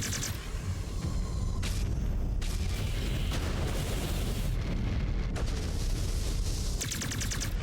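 Loud, dense explosions and heavy gunfire from a MechWarrior PvP battle as a destroyed mech blows up, a continuous roar of booms and blasts filling the whole stretch with no talk.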